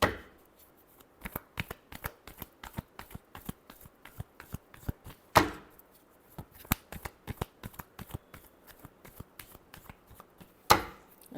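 Tarot cards being shuffled by hand in a quiet room, a long run of quick soft riffling flicks with two sharper slaps, no voices.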